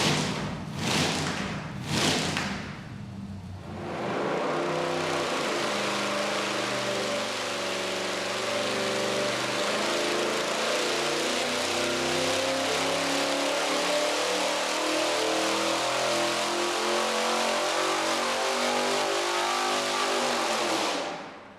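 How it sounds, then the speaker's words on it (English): A test-stand engine fitted with zoomie headers fires up after a few short bursts, then roars steadily and loudly at high revs for the rest of the run, burning paint off the pipes. "we're firing up the Zoomies to burn the paint off of them and hopefully shoot fire."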